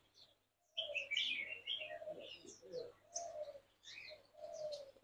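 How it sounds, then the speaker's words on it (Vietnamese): Pigeons coo softly in repeated low calls at an ornamental animal and bird farm in Bac Ninh, with scattered chirps from other birds around them, all fairly faint and with no talking. "những chú chim bồ câu được thả tự do ngoài để ăn uống"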